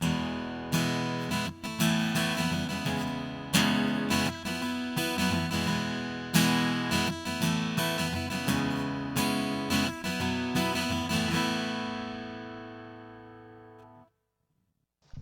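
An acoustic guitar played through a pedalboard plays a steady strummed and picked passage with a bright, processed tone and a roomy reverb tail that fades out at the end.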